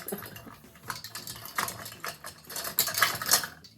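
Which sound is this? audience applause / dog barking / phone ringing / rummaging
rummaging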